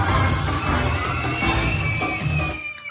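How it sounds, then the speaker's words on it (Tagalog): A crowd of children at a seventh birthday party shouts, cheers and applauds loudly at close range, a dense continuous roar that fades out at the end. "isa pang malakas na palakpakan na may kasama sigaw"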